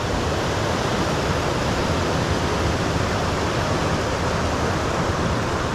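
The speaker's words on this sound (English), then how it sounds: "Waterfall coming down." A waterfall pours steadily into a river pool beneath an overhanging rock on the Collins River, a loud, continuous broadband rush close by with no voices.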